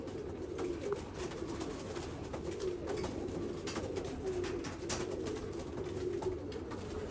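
Rare jamuni pigeons coo in soft, repeated low throaty calls, several birds close by, with faint rustling and scattered clicks around them and no talking.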